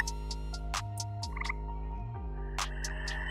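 Gray tree frogs and American toads call on a mountaintop after rain, with layered steady trills and sharp repeated chirps overlapping, fairly close and continuous with no talking.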